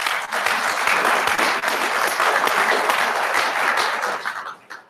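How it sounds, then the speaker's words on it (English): A veteran community crowd in Southern Nevada gives itself a sustained round of applause at a veteran suicide prevention event, with thick, even clapping that tapers off and fades in the final moments. "give yourselves a round of applause, please."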